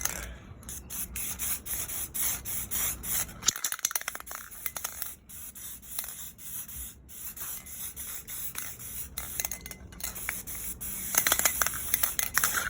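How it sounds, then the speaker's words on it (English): Bursts of black aerosol spray paint hiss in short and longer pulses onto an Abarth 500 1.4 T-Jet engine cover, separated by brief pauses and a can being shaken, close to the listener. "Black spray paint."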